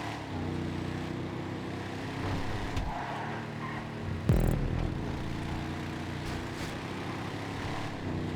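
Slam Truck engines racing in GTA 5, a steady mid-level engine drone with gear shifts and a brief sharp knock or impact near the middle, continuous with no voices.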